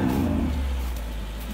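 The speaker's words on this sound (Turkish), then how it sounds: "Amcaoğlu niye gaza basarak gidiyorsun inadına hızlı hızlı?" An off-road car's engine roars low and heavy at full throttle while it climbs a mountain track. The drone is loud and sustained and slowly fades over a second and a half, with no voices over it.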